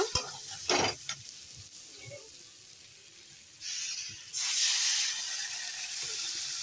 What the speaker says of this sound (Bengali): দেখো জলটা দিয়ে এখন আমি নেড়ে দিই হালকা করে